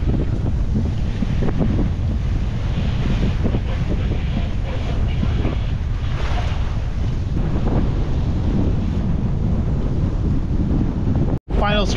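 Strong wind buffets the microphone on a sailboat in about 20 knots of wind, with steady waves and water rushing along the hull in a loud, continuous roar that ends in a brief dropout.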